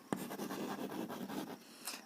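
Pen scratching across paper while a math solution is written out, a steady run of soft close strokes with a sharper tap at the start.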